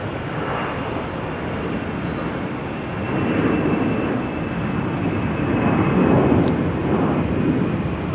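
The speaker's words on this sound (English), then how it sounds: "A Airbus A319." An Airbus A319 airliner at Salt Lake City airport, a steady broadband engine roar that swells slightly toward the end as the plane passes nearby, continuous and without talk.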